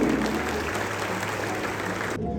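Sustained audience applause at an award ceremony, dense and steady clapping throughout before cutting off abruptly near the end.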